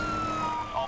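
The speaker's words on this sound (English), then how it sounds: "Fuck you, ambulance!" A wailing ambulance siren from The Crew racing game sweeps through a brief burst, loud and close with a smooth rising and falling tone, heard alone.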